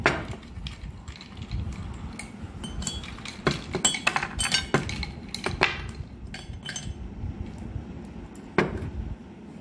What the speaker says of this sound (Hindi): उसके बाद इसमें हम आइस डालेंगे।